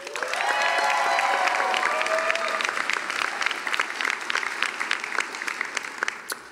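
Audience applause at a medical school white coat ceremony rises quickly into loud, sustained clapping, with faint cheers and whistles near the start, then slowly thins over several seconds.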